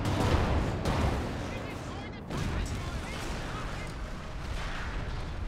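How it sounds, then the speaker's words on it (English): Katyusha rocket artillery volleys in Company of Heroes 2, a 3v3 match, rumbling as a dense continuous barrage of booms and crashes alongside game speech. "Katusha firing!"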